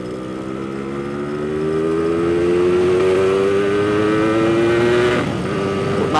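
A Yamaha RX King motorcycle revs and accelerates hard on a test run after restoration, its two-stroke engine note climbing steadily in pitch, loud and close, with a brief dip near the end before it picks up again.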